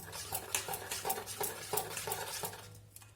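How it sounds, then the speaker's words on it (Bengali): Cauliflower dish ingredients being mixed after mustard oil is added, a run of soft rhythmic scraping and stirring strokes against a bowl or pan, close and fairly quiet, fading out toward the end. "তেলটা দেওয়ার পর আবারও আমি মিশিয়ে নেব"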